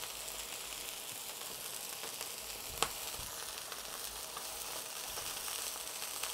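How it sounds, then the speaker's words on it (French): Chicken breast searing in a frying pan, giving a soft, even sizzle held at low level throughout, with one sharp click partway through. "c'est vraiment juste pour saisir le poulet"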